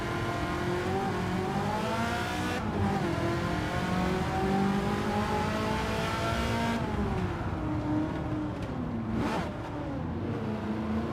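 Race car engine in the Gran Turismo 7 racing game, loud and continuous, revving up and down through gear shifts with rising and falling pitch, a brief dip near the end, no talking.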